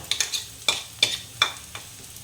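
Cumin and coriander fry in a hot pan alongside turmeric, with a soft sizzle broken by about five quick, rhythmic scraping stirs close by.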